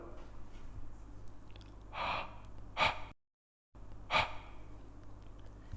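A person breathing out through the nose and mouth, several breathy exhales and snorting puffs over a steady low background hum, with one brief total dropout midway; close and fairly soft, no talking.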